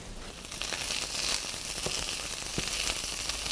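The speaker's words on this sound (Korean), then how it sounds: "여기에 초당 옥수수를 살짝 노릇하게 볶아줄게요" Sweet corn kernels frying in butter in a pan, a soft, steady sizzle with faint crackles and pops, fairly quiet and continuous with no voices.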